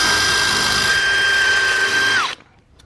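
A power drill whines steadily at a high pitch while boring a hole in a dirt bike part, then winds down and stops abruptly near the end, leaving near silence.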